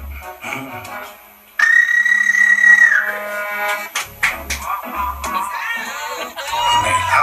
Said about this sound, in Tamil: நம்ம ஃபேவரட் விசில் அடிப்போம்